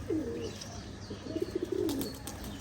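Pigeons coo nearby in soft, low rolling calls, a short phrase followed by a rapid burst of bubbling coos, with light rustling and faint background noise.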